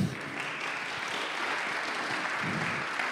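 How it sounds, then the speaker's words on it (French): A conference crowd at a business start-up day keynote claps steadily, a dense even wash of applause lasting a few seconds with no break. "Merci beaucoup, on peut les applaudir s'il vous plaît."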